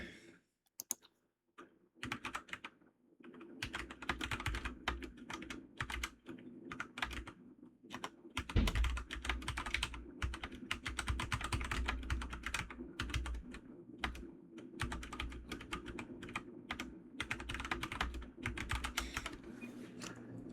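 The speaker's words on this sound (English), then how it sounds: "I know you love the clacking of the keyboard." Computer keyboard clacking steadily through a 2v2 esports contender match broadcast, rapid dense keystrokes running nearly continuously at close range over a low background hum.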